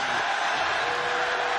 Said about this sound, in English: the crowd doesn't like that stoppage